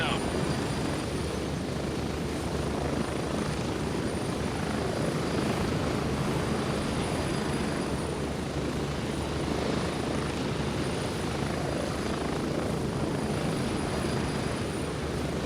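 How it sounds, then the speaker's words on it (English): A continuous, loud helicopter rotor and engine roar from a flight in the video game Gray Zone Warfare, steady and unbroken from start to finish, with faint speech buried under it. "Sorry for the helicopter noise"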